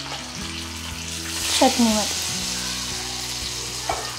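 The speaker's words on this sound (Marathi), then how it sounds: "आणि आता ही फोडणी आपण टाकणार आहोत" Hot tempering of oil with curry leaves poured into coconut chutney for amboli, giving a brief sizzle under a steady frying hiss, with someone speaking briefly over it.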